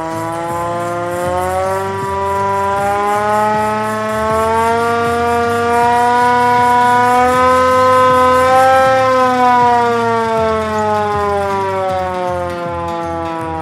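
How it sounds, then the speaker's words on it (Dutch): A loud hand-cranked civil defense siren, an original Cold War siren, wails close by, its pitch rising and holding in a steady, piercing drone with slight wavering. "Ja, het was originele sirene"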